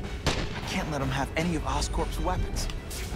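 AK-47 gunfire in The Amazing Spider-Man 2 video game, sharp shots scattered across the clip beneath someone talking over them.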